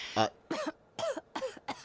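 A person coughs in a series of short, harsh bursts, about five separate coughs spaced roughly half a second apart, close and fairly loud with no other sound between them.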